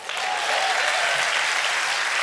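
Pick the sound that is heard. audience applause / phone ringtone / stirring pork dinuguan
audience applause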